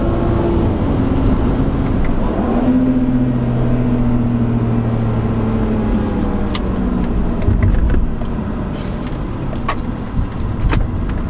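A 2008 BMW E90 335i sedan with the N54 engine pulls hard under acceleration, its loud engine drone climbing and shifting in pitch, with road and cabin noise underneath for about eleven seconds.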